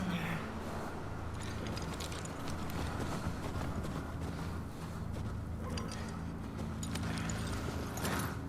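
Horse hooves in The Last of Us Part II, a steady run of clip-clop hoofbeats under dense game sound and ambience, continuous and fairly loud for the whole stretch.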